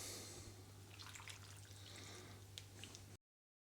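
About a cup of water pours into a beef stir fry marinade of olive oil, oyster sauce and soy sauce, a steady close trickle and splash lasting about three seconds over a low hum, then stopping abruptly.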